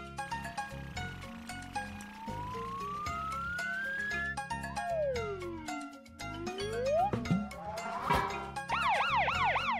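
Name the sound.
cartoon siren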